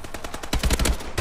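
Rapid automatic gunfire from the video game Call of Duty: Advanced Warfare, Supremacy multiplayer maps, rattles out in quick repeated shots, getting louder and heavier partway through the short burst.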